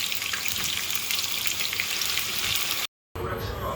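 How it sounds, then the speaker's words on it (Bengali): Potato sticks for French fries frying in hot oil, a loud continuous sizzle and crackle close by, broken by a brief silent gap near the end. "এখন তেলটাকে খুব ভালো করে আমি গরম করে একে একে সব আলুগুলি দিয়ে দিচ্ছি।"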